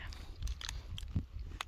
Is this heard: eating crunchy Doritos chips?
yes